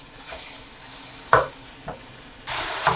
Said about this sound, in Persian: حالا شروع میکنم به تفت دادنش.